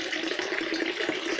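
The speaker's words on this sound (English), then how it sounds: "Spring water, I couldn't find the name." Spring water runs steadily from a source outdoors, a continuous close splashing and gurgling stream with no pauses and no talking.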